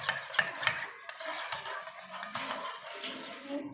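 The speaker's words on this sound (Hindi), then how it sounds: "अब इसको यहाँ पे मिक्स कर लेंगे।" A spoon stirs a dahi vada mixture with chaat masala and salt in a bowl, making close, wet scraping and rubbing sounds in an irregular rhythm, with a few sharper clinks near the start.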